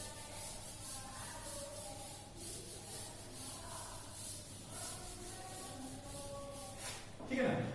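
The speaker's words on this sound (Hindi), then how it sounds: "इसको रब कर देता हूं मैं।" A board being rubbed clean during a poetry lesson: steady repeated swishing wipes in an even back-and-forth rhythm, close and moderately loud, ending in a brief louder knock or scrape.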